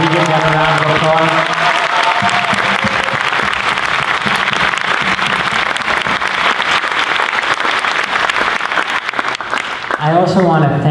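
Audience at a Grade 5 moving-up ceremony breaks into loud, sustained applause and cheering that fills the room, dense clapping continuing steadily before fading at the end.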